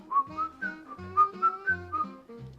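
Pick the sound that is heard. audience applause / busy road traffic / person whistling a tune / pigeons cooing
person whistling a tune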